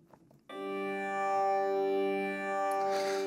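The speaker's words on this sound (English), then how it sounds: "the original pad sounds something like this" A sustained synth pad from an Ableton electronic track, a rich harmonic chord swelling in after a brief click and holding steadily bright and loud before a soft noisy flutter near the end.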